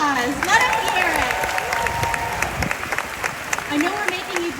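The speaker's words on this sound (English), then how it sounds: "Let's give them another round of applause." A crowd at Disney's Hollywood Studios 35th anniversary celebration applauds and cheers, with clapping running beneath a loud, tonal voice and some whoops.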